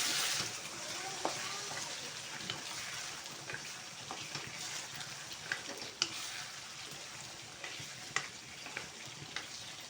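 Chicken kaldereta sizzling in a pan while being stirred, a steady frying hiss with scattered scrapes and clicks of the spoon, fairly quiet and close, without talking.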